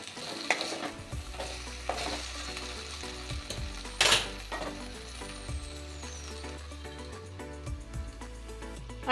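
Eggplant and tomato curry with peanuts cooks in a pan, a steady low sizzle with occasional stirring scrapes and clinks, close and fairly quiet with no talking.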